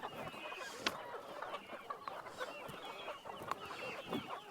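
Chickens clucking on a goat farm in Canada, a steady chorus of close clucks and squawks with some honking fowl mixed in, no talking heard.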